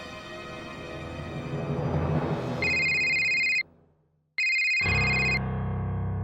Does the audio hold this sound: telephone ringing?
yes